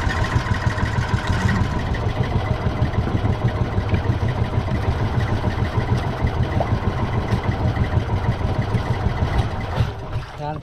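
A fishing boat's engine runs steadily at a constant rumbling drone, loud and close, continuing throughout with no break.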